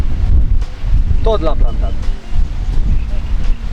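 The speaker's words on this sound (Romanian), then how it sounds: "Vântul bate destul de tare" Strong wind gusting outdoors during carp fishing by the water, a loud steady rush buffeting the microphone throughout while someone talks over it.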